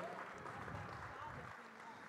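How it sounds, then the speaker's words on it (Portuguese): An audience at an opening ceremony applauds a federal deputy with steady, moderately distant clapping and some crowd murmur underneath. "Eu peço palmas para ela, mais uma vez"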